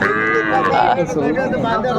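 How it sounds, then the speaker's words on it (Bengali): Cow with her calf at the Raniganj cattle market: a loud, close, drawn-out lowing moo that bends in pitch, with people talking amid the busy market noise. "গাভী বাছুর"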